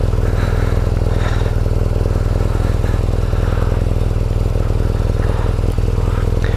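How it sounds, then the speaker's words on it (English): A motorcycle engine idles steadily up close, a low continuous rumble and purr with a faint mechanical clatter on top. "So just while it's idling, you do get a little purr and a little rumble."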